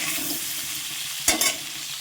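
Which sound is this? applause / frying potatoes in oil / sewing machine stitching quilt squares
frying potatoes in oil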